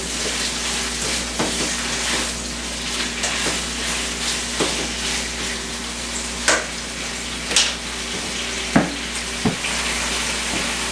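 Cajun chicken alfredo sizzles steadily in a single pot, with a continuous frying hiss broken by several sharp clinks and scrapes of a spoon stirring against the pot; no one speaks.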